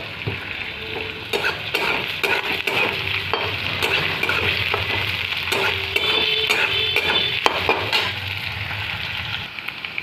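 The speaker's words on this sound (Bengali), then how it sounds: "পেঁয়াজগুলো ভাজা হয়ে গেলে আর একটু নরম হয়ে যাবে" Onions frying in a pan on the stove for a jackfruit curry, a loud continuous sizzle crackling up close, broken by frequent clicks and scrapes of a spatula against the pan.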